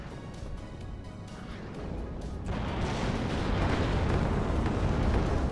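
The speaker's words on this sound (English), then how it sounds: "Carpet bomb these guys." A bomber carpet-bombing ground troops in the strategy game WARNO makes a rolling barrage of explosions that swells into a heavy, continuous roar of overlapping booms after the first couple of seconds.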